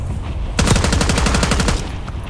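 A fast burst of automatic gunfire in a shooter video game, about a dozen evenly spaced, loud, close shots fired in quick rhythm after a brief lull, then stopping abruptly.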